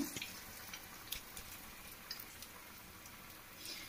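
Sweet corn vada patties, flattened by hand, sizzle and crackle steadily in hot oil, a continuous close frying hiss with scattered sharper pops and no talking.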